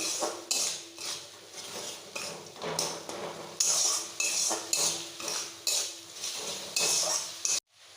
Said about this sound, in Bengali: এটা একটু ভালো করে নাড়াচাড়া করে নেবো আদা রসুনের গন্ধটা যতক্ষণ না কেটে যাচ্ছে